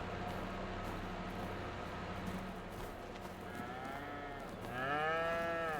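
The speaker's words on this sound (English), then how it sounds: "Yeah, happy cows." Cattle mooing on a winter farm in a farming simulation game, a couple of long, rising moos near the end over a low, steady machine-like background hum, fairly faint.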